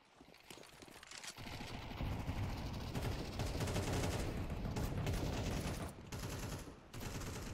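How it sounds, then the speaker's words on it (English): Sustained AK rifle fire in a competitive Counter-Strike-style esports match, Eternal Fire against Bushido Wildcast, with dense overlapping bursts and sharp cracks rolling on for several seconds, loud and near, with no voices over it. "it's so nice hearing those AKs"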